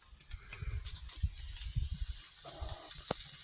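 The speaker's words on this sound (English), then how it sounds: "Got a good sear going on there" Beef cubes for Texas chili sear in a hot pan outdoors, giving a soft, continuous hiss with uneven crackling pops. Low handling thumps sit beneath the sizzle.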